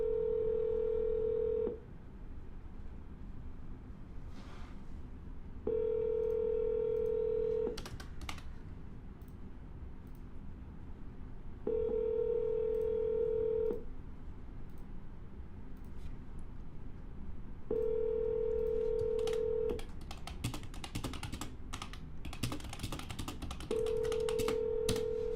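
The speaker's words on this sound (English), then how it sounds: "We're gonna double dial." Telephone dialing tones sound as steady beeps of about two seconds each, repeating roughly every six seconds, with quieter tapping and rustling between them.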